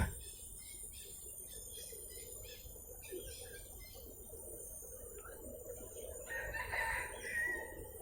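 A rooster lets out a crow toward the end, amid clucking fowl and a steady high insect trill outdoors on a nature park trail in Singapore.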